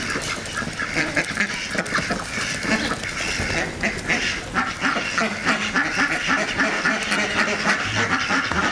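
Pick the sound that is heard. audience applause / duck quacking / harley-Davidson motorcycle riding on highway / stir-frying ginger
duck quacking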